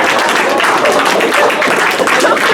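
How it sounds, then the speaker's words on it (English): A high school audience gives dense, loud applause for new social studies honor society inductees, a continuous wash of clapping with faint voices underneath. "Let's have one more round of applause for the new inductees."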